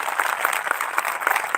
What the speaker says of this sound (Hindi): ताली तो बजा दो अगर समझ में आया।